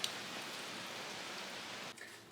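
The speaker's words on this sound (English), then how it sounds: "What a beautiful rain." Steady rain falling outdoors, a continuous even hiss of drops on surfaces heard alone and fairly close, easing slightly near the end.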